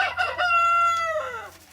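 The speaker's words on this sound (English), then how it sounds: "It is going to be loud here this afternoon because we're hanging out in the yards of our chicken barn" Chickens in the yard of a chicken barn, a loud rooster crow with a long drawn-out tone that falls off at the end, over clucking from the flock close by.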